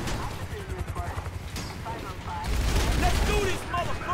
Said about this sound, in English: they're gonna start shooting at me